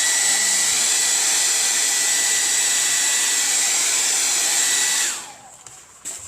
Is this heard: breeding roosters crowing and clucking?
no